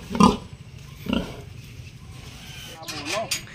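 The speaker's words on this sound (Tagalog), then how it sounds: "Ang inahin po sa mga biik na nandun sa dulo." On a farm, a sow and her piglets give a couple of short grunts and squeals close by, while someone talks over them.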